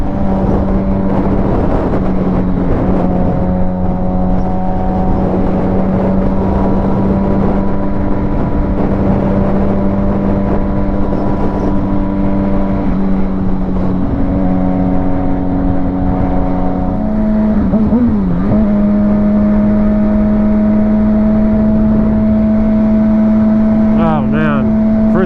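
Suzuki GSX-R sport motorcycle engine idling and revving, a loud steady drone with rising and falling pitch sweeps through the throttle blips, heard close up for a long stretch with a voice talking over it.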